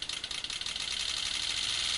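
Water fuel injector pulses simulate a car engine running at about 60 mph, giving a fast, dense buzzing stream of clicks that speeds up into a near-continuous rattle, loud and with no speech.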